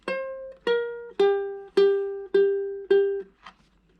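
Ukulele picking the opening of a song's intro: six plucked single notes at a steady pace, each ringing briefly before the next, close and clear with no voices.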